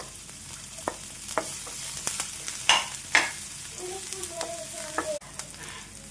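Green chilli and chicken roast in a pan with a steady low sizzle, punctuated by repeated sharp scraping and tapping of a spatula against the pan.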